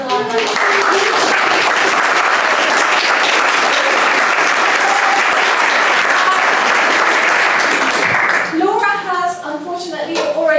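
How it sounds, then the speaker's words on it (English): Large audience at a science summit machine learning Q&A breaks into sustained, dense applause for about eight seconds, then it fades as a voice begins speaking over the tail end. "so she won't hear our clapping"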